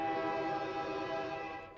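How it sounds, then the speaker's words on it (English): A train horn sound effect plays during a hockey game livestream as a sustained, buzzy chord-like blast that fills the clip and cuts off abruptly at the end. "There's the train."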